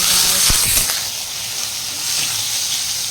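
Potato cubes go into a pan of already fried onions, a loud steady sizzle and hiss with a couple of sharp scraping stir strokes near the start, close by, no talking.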